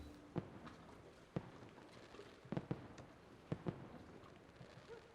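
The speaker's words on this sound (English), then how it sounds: "fireworks are a thing that are happening" Fireworks go off in Assassin's Creed II, distant booms and pops coming in scattered pairs and singles over a steady ambient hum, faint and with no talking.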